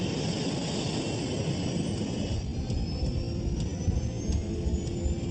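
Qantas Airbus A380 with Rolls-Royce engines rolling for takeoff, a steady broad jet roar with a low rumble and faint high whine, continuous and fairly distant.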